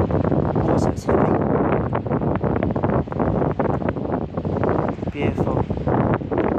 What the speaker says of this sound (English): It's not that crazy wind, it's like light wind.